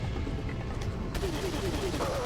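Handgun shots fired in the video game Resident Evil 4, a few sharp reports mixed into game sound and background noise while a person talks.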